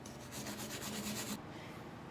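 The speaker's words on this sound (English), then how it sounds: "take your wire brush and just clean up that weld discoloration on the end of that" A wire brush scrubs weld discoloration off a welded metal fork in rapid back-and-forth strokes, a close, gritty rasping rhythm that stops abruptly, leaving only low background noise.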